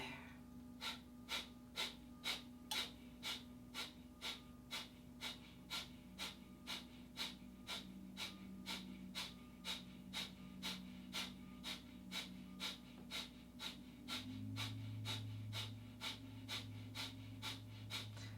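Breath of fire during a yoga class, a long run of rapid, evenly spaced sharp nasal exhalations close to the microphone, with a faint steady tone and soft music underneath.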